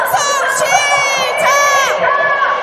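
A rally crowd shouts and cheers continuously, many voices rising together in a loud, sustained roar with swelling whoops.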